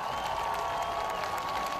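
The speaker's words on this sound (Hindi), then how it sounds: "में लोग तालियां बजाते भी दिखे।" A crowd in Tel Aviv applauds a speech by Ukraine's president shown on a big screen, with steady, dense clapping that holds at an even level throughout, with no voices standing out.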